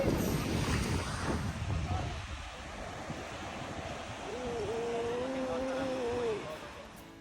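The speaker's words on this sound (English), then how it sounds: "we're at the beach" Waves wash in on a beach under steady wind buffeting the microphone, a loud continuous roar with a faint tonal whine partway through.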